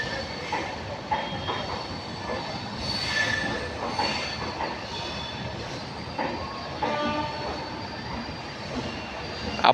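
The Jan Shatabdi express train departs along the main line, with close, loud wheel squeal and clattering railcars rolling past continuously.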